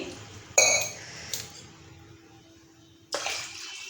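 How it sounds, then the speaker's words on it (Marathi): Water splashes into a metal pot in short bursts, with a longer pour near the end and light clinks of cookware, close by, as water is added for boiling chickpeas and potatoes. "बघा पाणी घेते"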